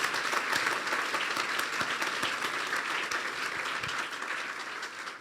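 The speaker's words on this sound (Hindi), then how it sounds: "फिर जोरदार तालियां बजाइए यीशु के लिए।" Steady, dense applause from a church congregation clapping for Jesus during a Pentecostal sermon, sustained evenly across the whole stretch without voices.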